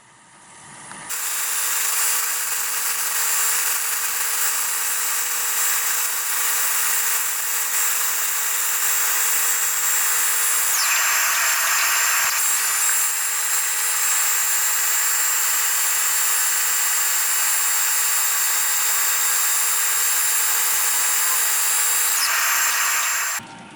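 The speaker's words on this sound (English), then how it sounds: "The 400 grit belt is the last belt I'll use on the belt sander for the scales" A belt sander fitted with a 400 grit belt smooths straight razor scales, a loud, steady high-pitched whine and hiss lasting over twenty seconds, with a short shift in tone midway as pressure changes.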